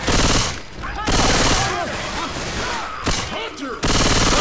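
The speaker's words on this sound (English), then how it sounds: "you guys you keep shooting me" Rapid automatic gunfire from Left 4 Dead 2 survivors during a custom campaign, loud and dense bursts with brief pauses and voices talking over the shooting.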